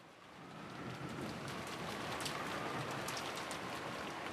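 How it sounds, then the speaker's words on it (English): Steady rain and wind ambience from the Umineko visual novel, a continuous wash of falling rain with soft gusts that holds evenly throughout, with no voices. "as the sound of wind and rain gradually filled the room once again"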